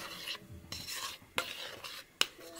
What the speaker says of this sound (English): a teaspoon of baking soda and you just mix it all up like that.